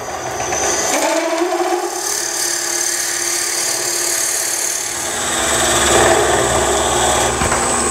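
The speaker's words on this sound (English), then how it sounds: "This is 1 1/2 drill, going in there, finding where I left off. Start up the lathe." A wood lathe hums steadily while a 1 1/2 drill bit grinds into wood for a pepper mill, a continuous whirring with a rising scraping tone, no talking.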